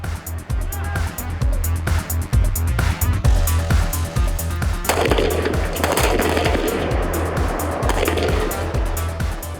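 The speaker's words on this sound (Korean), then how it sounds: "더욱 강인한 전사로 거듭나기 위한 기동 사격 훈련" Rapid gunfire from army special forces troops during a maneuver shooting drill, with dense bursts of sharp loud shots repeating through the whole stretch alongside movement noise and some background voices.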